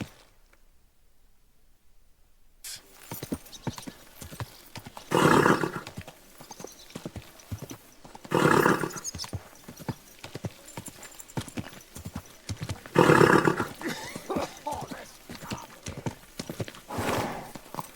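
A horse in Kingdom Come: Deliverance 2 clip-clops steadily at a gallop, hooves close and even, while several loud, drawn-out neighs and whinnies break out at intervals above the hoofbeats.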